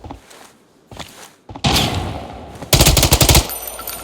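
Gunfire in the mobile shooter Arena Breakout: loud, close bursts of rapid automatic shots, the last burst hardest and most sustained, following a few softer thuds and rustles.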